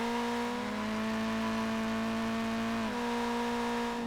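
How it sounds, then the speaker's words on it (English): A generic race car engine in the driving game High Octane Drift drones at a steady, loud pitch, holding one tone before a brief dip and recovery near the end, with no voices. "This engine sound is just so generic for your typical race"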